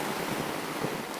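Heavy rain pours outside an inflatable tiny house during a storm, a steady, dense hiss of rainfall holding at a constant level with no voices.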